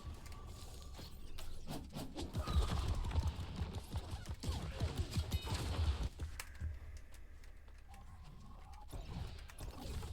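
Hooves clatter in quick, uneven bursts during a horse race in an MMO game, with clicking and mechanical game effects layered through the steady run.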